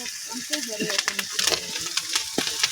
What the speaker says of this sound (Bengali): এখন এই যে পেঁয়াজটা হালকা মানে ব্রাউন কালার করছি, এখন জিরা বাটা দিয়ে দিলাম